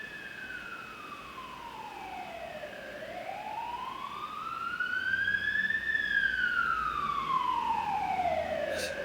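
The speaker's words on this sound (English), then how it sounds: "Still I can hear sirens celebrating this win." Wailing emergency sirens outside, a pair of sweeping tones rising and falling slowly and overlapping, fairly distant but clear above a steady background hum, continuous throughout.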